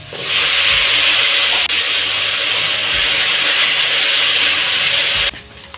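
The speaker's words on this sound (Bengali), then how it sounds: "তেল গরম হয়েছে, এখন আমি দেব আলু এবং একই সঙ্গে আমি কচুর গাঠিও ভেজে নেব।" Potatoes and taro stems frying together in hot mustard oil in a kadai give a loud, steady sizzling hiss that runs unbroken for about five seconds and then cuts off abruptly.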